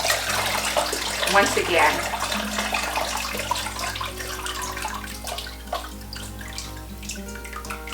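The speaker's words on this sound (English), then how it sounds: "Letting the water out." Water draining out of a papermaking tub after a sheet is scooped with a mold and deckle, heard as a continuous splashing, gurgling flow that gradually settles, with a voice speaking briefly over it.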